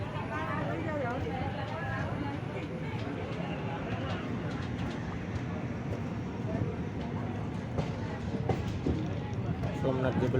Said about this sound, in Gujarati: આપણી ટ્રેન કેશોદથી નીકળી ગઈ છે મિત્રો